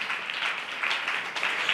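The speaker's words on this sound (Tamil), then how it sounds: "நல்ல கையை தட்டி தேவனை மகிமைப்படுத்துங்க." Church congregation clapping hands in praise, a steady wash of applause at moderate level filling the short stretch without pause.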